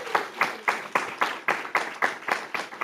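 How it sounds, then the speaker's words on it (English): Audience at a school board meeting giving a round of applause for a teacher, heard as a run of loud, evenly spaced claps close by, roughly four per second, with no talking. "So let's give her a round of applause."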